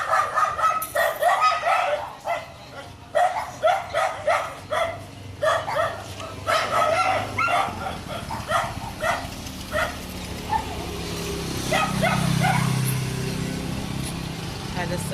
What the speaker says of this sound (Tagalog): aso kasi sa tabi